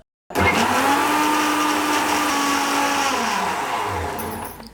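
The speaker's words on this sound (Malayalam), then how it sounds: "നമുക്കിത് നന്നായിട്ട് ഫൈൻ പേസ്റ്റായിട്ട് അടിച്ചെടുക്കാം" Mixer grinder whirring as it blends yogurt and green chilies into a fine paste for vellarikka kichadi: loud, close motor whine starting abruptly, holding steady, then slowly winding down.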